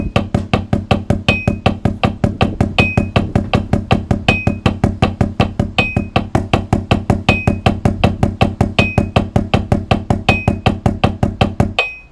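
Drum practice pattern in a steady, fast, even stream of single strokes, close and loud, with a faint higher accent recurring every couple of seconds, continuing for about twelve seconds before stopping abruptly.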